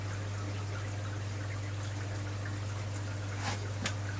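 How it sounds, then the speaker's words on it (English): A faint, steady trickle of water running into an indoor koi pond, a low continuous wash with a constant hum beneath it and a couple of small splashes near the end. "water trickling in has got no chlorine in"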